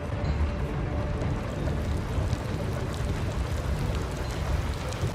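A water wheel turning in flowing water in the video game Elden Ring, a dense, steady rushing and splashing wash that holds at an even level throughout.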